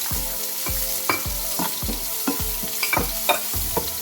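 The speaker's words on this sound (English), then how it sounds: "I add my onions." Onions cooking in a hot pan for a plantain veggie sauce, with repeated low thumping stir strokes over a constant sizzle, close and fairly loud, with no talking.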